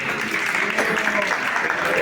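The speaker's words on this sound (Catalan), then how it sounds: "Aplaudiu a la Marina, sisplau." A crowd at a street parade claps in a dense, steady burst of applause, loud and close, with a few voices mixed in.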